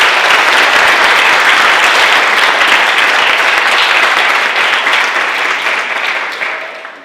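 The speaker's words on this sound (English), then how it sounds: "How about a round of applause for our students?" Audience at a middle school end-of-year ceremony applauding the students, loud sustained clapping from a large crowd that slowly fades toward the end.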